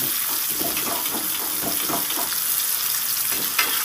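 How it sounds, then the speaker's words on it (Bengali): Sliced bitter gourd fries lightly in a pan, giving a steady, close sizzle with crackling spatter throughout. "খুব বেশি লাল কড়া করে ভাজবো না হালকা ভেজে আমি এটা তুলে নেব দেখুন ভাজাটা আমার মোটামুটি হয়ে এসছে"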